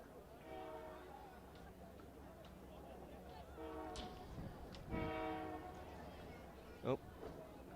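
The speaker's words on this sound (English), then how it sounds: "train." A distant train horn sounds in a few long, layered blasts over a low background rumble, with crowd noise and talk around it at a boys' high school soccer match.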